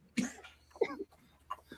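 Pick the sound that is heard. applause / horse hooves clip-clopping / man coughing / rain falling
man coughing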